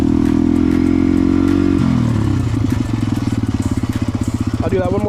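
A motorcycle engine idles loud and close, then the throttle opens and the note shifts into a choppy, pulsing rev that holds for several seconds, with a voice briefly audible near the end.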